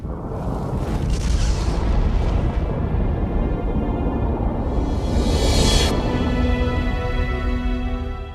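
A nuclear explosion sound effect: a sustained, loud, rumbling roar that fills the whole stretch with no let-up, brightening into a hissing surge midway before settling back into a deep rolling boom.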